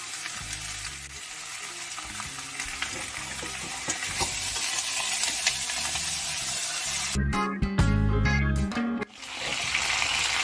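Jerk-seasoned turkey sizzling and frying in a hot pan with orange juice, a steady crackle throughout, joined briefly near the end by clattering and a burst of running water before the sizzle resumes.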